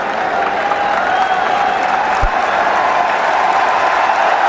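A cricket crowd in Kanpur applauds AB de Villiers reaching a half century in a one-day international against India, a steady, loud wash of clapping and cheering that holds throughout.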